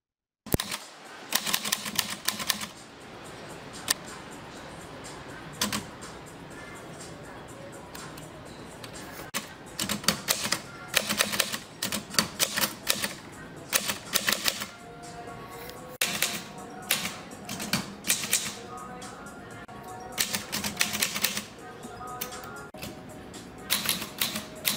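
Typewriter typing in rapid bursts of sharp mechanical key strikes with brief pauses between runs, close and crisp, with occasional louder clacks and carriage sounds.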